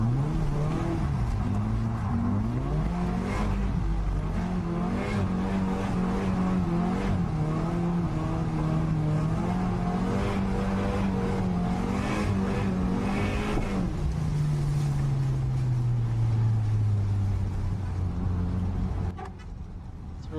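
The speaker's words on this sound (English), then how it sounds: "Guys out in the middle of nowhere drifting at night" Cars drift at night on a Kyushu mountain road in Japan. Engines rev high and hold loud, wavering tones for a long stretch, tires squeal underneath, and the revs drop away near the end.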